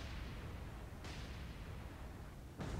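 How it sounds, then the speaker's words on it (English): Torpedo hits on warships in the World War II naval combat game War on the Sea sound as deep booming blasts, with sharp explosive bursts at intervals over a constant low roar of battle. "there's a nice torpedo hit on that cruiser"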